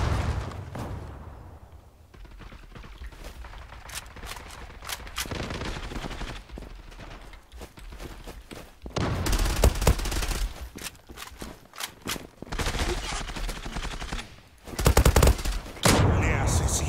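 Rapid automatic bursts from a golden UMP45 submachine gun in the online shooter Zula, loud and close, firing in repeated volleys separated by short pauses, with heavier clusters of shots near the end.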